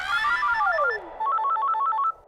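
A phone ringtone plays a falling electronic sweep, then a quick, repeating chirpy melody that runs close and clear with no talking over it.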